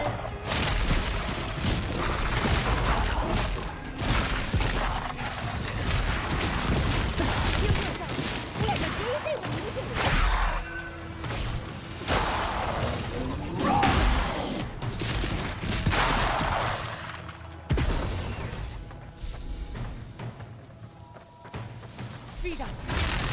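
Magic missiles cast by an arcane scholar wizard in the video game Avowed, set in Shatterscarp, hit as dense, rapid bursts and thumps that run loud and nearly continuous, with someone talking over them.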